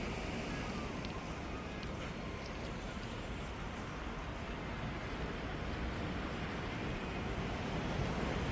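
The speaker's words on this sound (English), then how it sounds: "Beach." Waves and surf on a sunny Southern California beach, a steady low wash of breaking water with wind buffeting the microphone, continuous and moderately distant.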